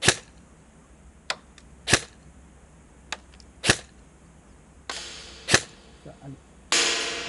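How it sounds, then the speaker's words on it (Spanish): An MK18 MARSOC Neptune 9-inch airsoft rifle with electronic trigger fires sharp single shots spaced apart, followed by short rapid bursts, each crack close and loud against a quiet background. "vamos a dispararle en esta ocasión a Seticop, primero tiro a tiro y luego a ráfaga"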